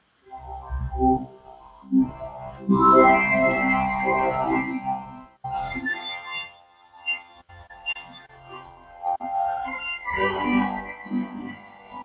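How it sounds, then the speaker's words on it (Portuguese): Pipe organ chords sustain and shift over several seconds, full and resonant, played alone without any talking. "Esse é o som do órgão."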